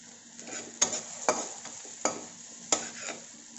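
Carrots and chayote are stir-fried in a pan, a low sizzle under several distinct scraping strokes and light metallic taps of the spatula, evenly spaced and close up.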